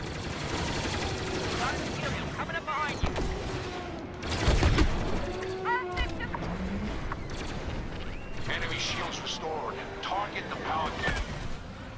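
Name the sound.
starfighter missiles and gunfire in video game Star Wars Battlefront 2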